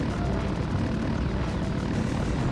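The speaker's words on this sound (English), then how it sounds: "we're only going to see helicopters throughout this entire level" A helicopter in the video game Body Harvest drones with a continuous loud engine roar and steady rotor chop, unbroken throughout.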